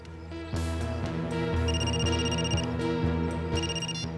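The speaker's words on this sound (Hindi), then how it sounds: "अभी अभी फोन आया" A telephone ringtone plays steadily, a repeating electronic melody with a bright high beep pattern, clear and fairly close with no voices.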